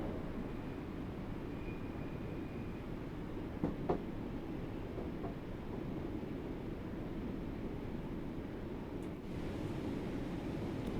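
Train running on rails in the video game Train Sim World 2 on the Island Line, pulling a slightly broken train, a steady low rumble and rolling drone with a couple of faint clicks.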